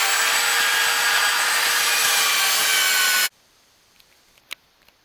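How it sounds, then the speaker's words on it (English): A power sander works 80 grit sandpaper across a wooden catamaran centerboard, giving a loud, steady, close abrasive roar that cuts off abruptly. A few faint knocks follow in near silence. "a quick 80 grit sanding"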